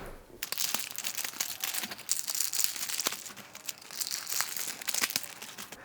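Close, busy crinkling of plastic wrapping pulled off a pack of SKLZ mini resistance bands, with steady rustles and sharper crackles running through the whole stretch.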